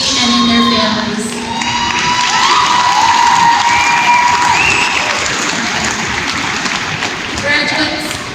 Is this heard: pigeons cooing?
no